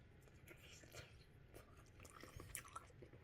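Bacon wrapped wild sea scallops being bitten and chewed up close, with soft crunchy mastication sounds in quiet bursts over about three seconds, a louder bite near the end.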